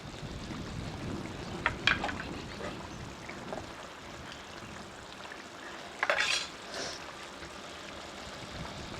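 Whole ivy gourds (tindora) dropped into frying masala and stirred, with a background sizzle, a few clattering scrapes and rattles of the pan, and a louder burst of stirring near the end.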